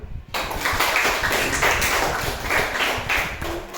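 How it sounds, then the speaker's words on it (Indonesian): Classroom audience claps hands together in a dense, steady burst of applause lasting several seconds, starting abruptly after a brief silence, fairly loud and close, with a faint voice underneath. "Tepuk tangan dulu"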